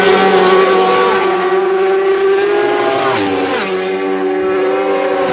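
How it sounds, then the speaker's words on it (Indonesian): A racing motorcycle engine holds a loud, steady, buzzy harmonic drone, dipping briefly in pitch partway through before settling again, with no voices. "Di sini ada motor balap."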